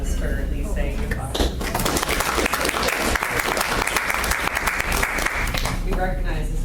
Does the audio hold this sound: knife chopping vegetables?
no